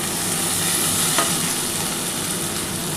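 Poppy-seed water poured into fried poppy paste in a pan for an aloo posto with cauliflower stalks, giving a steady loud sizzle and bubbling hiss throughout, with no talking.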